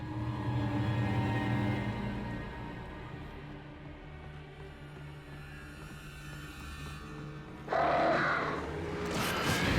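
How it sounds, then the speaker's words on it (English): Crows caw in the Alan Wake video game over a low, steady ambient rumble, with a brighter, louder burst of cawing and flutter near the end. "Sounds like more birds."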